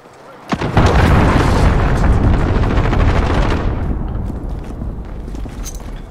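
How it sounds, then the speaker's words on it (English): A cruise missile strike in Call of Duty: Modern Warfare lands as a sudden loud, booming explosion that roars on for several seconds and then slowly fades amid crackling gunfire-like rumble. "Allied cruise missile on the way."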